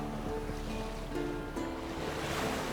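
A sailing boat crossing the open sea in The Witcher 3, with steady waves and surf washing around the hull under a constant rush of wind, no voices present.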